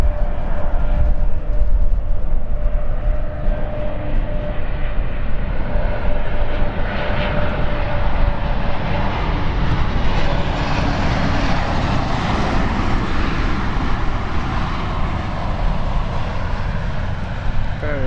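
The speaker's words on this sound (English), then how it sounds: "Very nice landing that one." An airliner on City Flight 8484 from Palma lands at London City Airport, its engine roar broad, loud and steady throughout, rising and falling slightly as it rolls along the runway.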